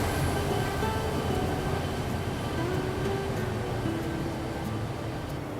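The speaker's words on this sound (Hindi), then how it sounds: "और हमारी ट्रेन जो है वो अब आ चुकी है और ये रही हमारी ट्रेन जिसमें AMD का डीजल लोकोमोटिव पूरी जर्नी तक हमारे साथ रहने वाला है।" An AMD diesel locomotive pulling a jungle train on Malaysian meter gauge track rolls in with a steady, loud rumble and a low mechanical drone, holding constant throughout with no voices.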